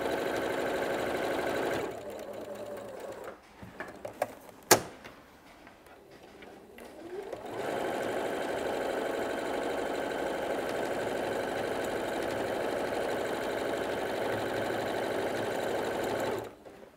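Sewing machine running a tacking stitch on a BBQ roll mat, humming loud and steady at close range, with a pause filled by handling clicks before a long continuous run resumes, no speech.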